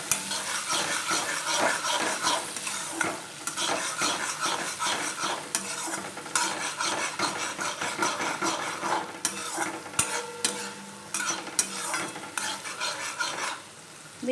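Tomato and a chili stirred in a hot pan for a Gujarati gavaarsing (cluster bean) curry, with a steady loud sizzle and repeated scraping and clinking of the spoon against the pan throughout.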